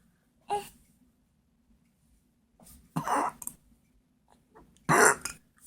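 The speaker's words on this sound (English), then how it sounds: "That was a big belch." Several burps from a 7-week-old baby boy, one small gurgle early, then two louder, fuller belches a couple of seconds apart, close and clear in a quiet room.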